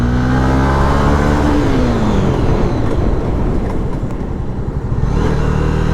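A Honda motorcycle accelerates hard from close by, its engine note rising steadily through the gears in one loud, continuous run.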